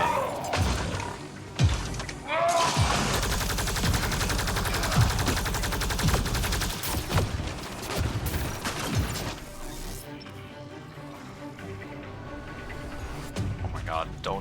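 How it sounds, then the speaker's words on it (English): Heavy booming blasts from a big cannon and crashing impacts in Mass Effect Andromeda fill the clip, with rattling gunfire and people talking over the loud chaos. "Oh, that's a big cannon."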